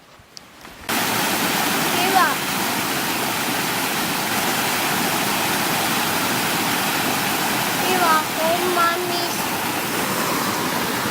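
Continuous broadband roar of water pouring over a small waterfall on a cold stream, loud and steady throughout after a brief quieter start, with faint voices briefly audible over the rushing water.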